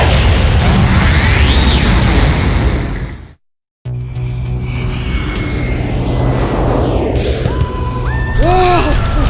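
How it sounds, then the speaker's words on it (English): Disruptor torpedoes launch with a roaring whoosh in The Granstream Saga on PlayStation 1. A brief silence follows, then rumbling booms and bright sweeping, warbling electronic tones, loud and dense throughout. "Activate disruptor torpedoes."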